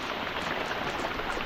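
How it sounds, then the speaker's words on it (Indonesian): Heavy tropical rain storm pouring down on a remote uninhabited island fishing camp, a dense steady hiss of downpour drumming on surfaces, close and continuous throughout. "Hujan badai guys, kita kehujanan nih."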